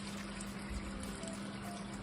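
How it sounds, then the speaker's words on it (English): Hot water is poured into a pot of Moroccan couscous with chicken and vegetables, giving a steady, even rushing and trickling sound that carries on without a break, with no one speaking. "We're going to add some hot water"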